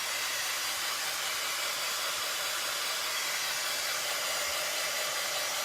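A hair dryer blowing on a painted Dollar Tree tray, a steady, loud, even hiss of rushing air held without change throughout and no voices.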